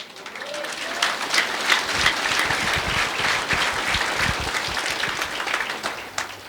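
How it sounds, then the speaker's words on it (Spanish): Sustained applause from a crowd, dense and steady clapping filling the whole stretch with faint voices mixed in. "Un fuerte aplausos."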